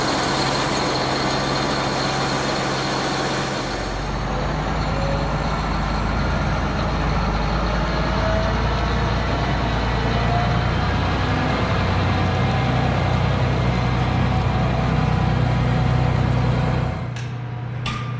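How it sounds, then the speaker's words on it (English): A green farm tractor's engine turns over and starts from inside the cab. It settles into a loud, steady diesel idle and runs on continuously until a clunk near the end, with no talking. "that green tractor started pretty well"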